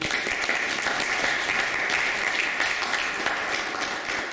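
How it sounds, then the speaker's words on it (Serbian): An audience claps warmly for two guests at a book presentation on the history of the Serbian Orthodox Church; many hands produce a steady, even roar of applause that holds for several seconds without talk. "Jedan aplauz za njih, molim."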